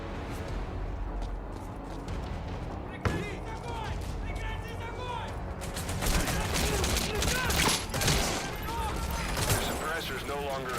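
Gunfire in a video game, bursts of loud shots and sharp cracks that grow busier partway through, with voices talking over the shooting.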